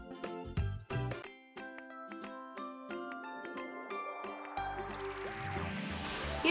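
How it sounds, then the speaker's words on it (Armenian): Water is poured into a flour-based homemade paint mixture in a bowl, giving a close, quiet trickle with drips and small glassy tinkles, then a fuller pouring wash toward the end. "Ավելացնում ենք ջուր"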